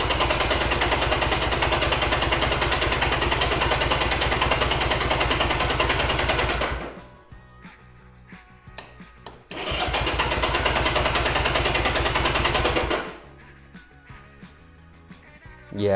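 A Honda CB200T motorcycle on choke catches and runs with a loud, steady buzzing roar for several seconds, drops to sputtering quiet, roars again briefly, then dies once more.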